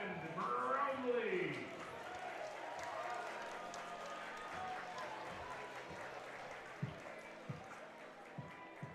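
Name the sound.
home crowd applauding baseball batter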